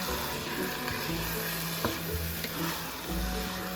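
Asparagus stems cut into small cubes being stirred into a risotto in a pan, with a steady close-up sizzle and soft scraping through the whole stretch and no talking.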